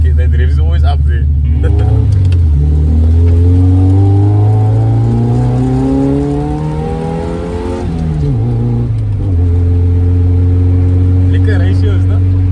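A Datsun 1400 pickup engine fitted with a performance cam revs up and down, its harmonics rising and falling, loud and close with a lumpy idle tone, while people talk over it.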